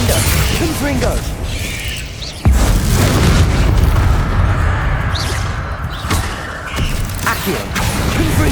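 Bombarda spell explosion in the Hogwarts Legacy video game: a loud, sharp boom bursts out amid dense, continuous battle noise, with rumbling blasts and clattering effects layered throughout.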